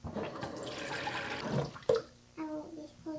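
Water pours steadily for about two seconds with a splashy, rushing sound, then stops; a voice speaks briefly afterward.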